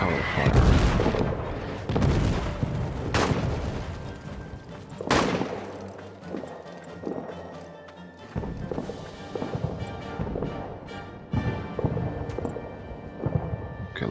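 In the trench game All Quiet in the Trenches, soldiers lay down cover gunfire: scattered heavy booms and cracks at uneven intervals, some loud and close, some distant, over a rumbling battlefield.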